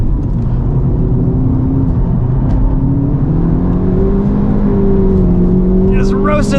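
An FL5 Honda Civic Type R with a COBB Accessport 93 tune on track, its engine droning loud and steady with rising and shifting tones and tires working hard, while a voice talks over it.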